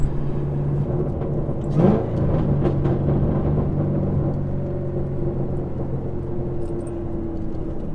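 A 2014 Shelby GT500 engine rumbles through a downshift, with a brief rev blip early on, then a steady low drone from inside the cabin, loud and continuous without speech.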